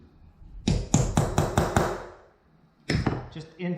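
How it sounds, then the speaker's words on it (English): A metal punch tapping around the edge of a rivet on a wing spar in a CriCri light airplane build: a quick run of six sharp, close knocks, a short pause, then a few more taps. "So I just use this this punch here to just try and tap around the edge of this rivet"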